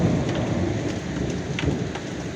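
Heavy rain pours steadily over the city during a thunderstorm with lightning, a dense continuous hiss with low rumbling underneath, loud and close, no voices.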